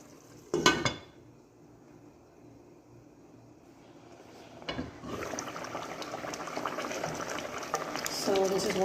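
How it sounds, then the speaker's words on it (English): Pumpkin soup with a ham bone and added water boils in a pot, starting quiet with a couple of clanks before a rising, steady bubbling and sizzling swells up close. "And we're going to allow this to boil until, of course, this has mashed up way more than what it is right now"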